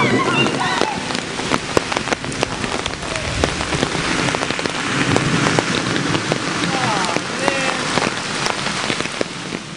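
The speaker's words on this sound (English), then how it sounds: "It's pouring down rain." Heavy rain pours down steadily on a surface outdoors at night, a dense, loud, continuous hiss with scattered sharper drops throughout, while a voice briefly speaks over it.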